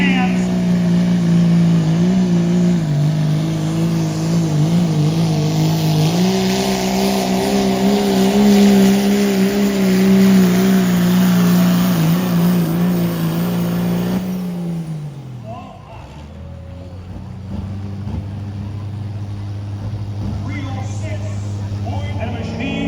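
A pro street diesel truck roars at a truck pull in Marshfield, Wisconsin, loud and sustained with rising engine pitch before dropping off to a lower idle, while an announcer talks over the engine.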